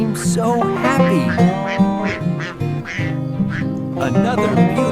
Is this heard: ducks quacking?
yes